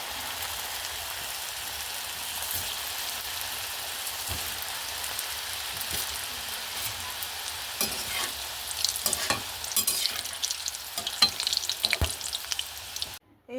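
Semolina balls for rasbora fry in hot oil on a low flame, making a continuous close sizzle. Bubbling pops grow busier toward the end before the sound cuts off abruptly.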